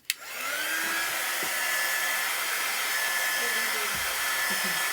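A hair dryer switches on with a click and runs as a loud, steady whirring blow over a Chalk Couture craft project, continuous and close throughout.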